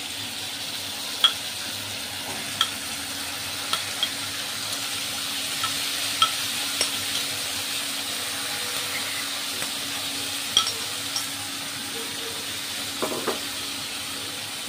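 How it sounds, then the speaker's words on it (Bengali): Banana flower curry spices stirred into hot oil in a pan, a steady hiss with a low hum beneath, punctuated by occasional light spoon taps and scrapes spaced a second or two apart, no voices. "দিয়ে একটু নাড়াচাড়া করবো। এরকম নাড়তে হবে।"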